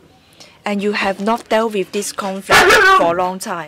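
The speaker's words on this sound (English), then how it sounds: "sorry about my dog barking" A dog barks and yips in several sharp bursts indoors, close and loud, overlapping with a person speaking steadily.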